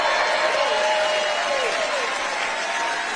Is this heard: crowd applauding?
yes